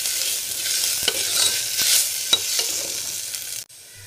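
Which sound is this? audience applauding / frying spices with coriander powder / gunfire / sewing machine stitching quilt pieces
frying spices with coriander powder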